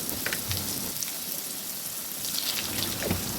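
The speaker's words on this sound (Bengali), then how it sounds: "এখন এই তেলের মধ্যে আলুগুলো ভেজে নেব" Potatoes frying in hot oil in a home kitchen pan give a steady, close hiss and crackle, like rain, with no talking over it.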